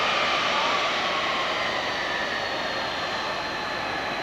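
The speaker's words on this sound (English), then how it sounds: "aircraft will take off performing a maximum angle climb" A transport aircraft taking off in a maximum angle climb, a loud steady engine roar with a broad hiss and faint whining tones, sustained and close throughout.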